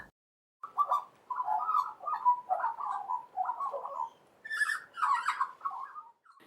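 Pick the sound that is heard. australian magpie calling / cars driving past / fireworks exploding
australian magpie calling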